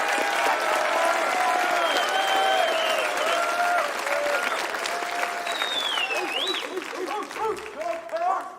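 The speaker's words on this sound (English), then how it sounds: "Can we give him a round of applause?" Sustained, dense applause from a large audience at a campus graduation ceremony, close and loud throughout, with shouts, whistles and voices mixed into the clapping.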